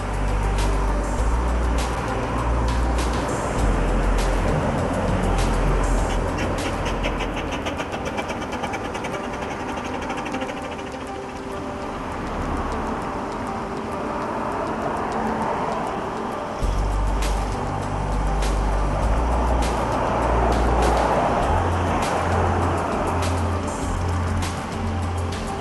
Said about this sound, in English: That's the steam car.